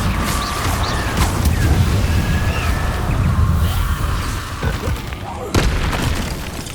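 Fiery spell explosions in the Hogwarts Legacy video game, a continuous rumbling boom with crackling bursts and sharp hits, loud and dense throughout, with game music and effects layered around it.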